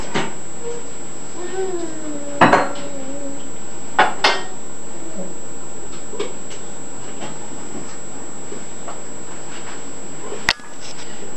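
Dishes and plates clatter as they are set down on a dining table during a turkey meal, a few sharp clinks scattered between quieter stretches with people talking softly.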